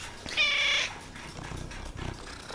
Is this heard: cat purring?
yes